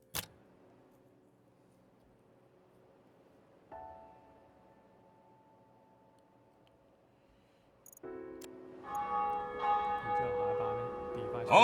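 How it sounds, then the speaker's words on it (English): Church bells in a railway video game toll a couple of times with long ringing decay, then a fuller peal of several bells begins and continues, moderately loud. "Ah, the church bells."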